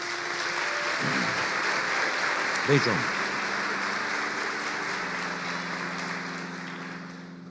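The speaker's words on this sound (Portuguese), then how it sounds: "Dê um aplauso a ele." An audience at a church service applauds steadily throughout, with a voice speaking over the clapping.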